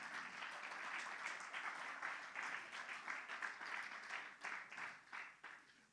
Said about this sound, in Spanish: Sí, un aplauso al Señor,